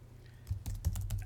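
Rapid clicking of keys on a computer keyboard while entering data into a spreadsheet tool: a close, dense run of sharp taps that begins after a short quiet moment and continues steadily.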